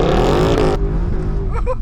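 A Tesla Model 3 drifting on a dirt track, its loud engine-like whine rising and holding up close, with a brief shift partway through and faint voices underneath.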